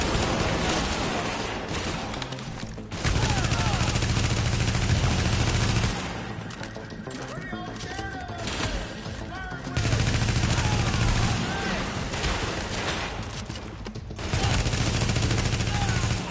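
Blind-fired gunfire in The Division comes in dense, loud bursts that alternate with quieter stretches of background game noise and faint voices.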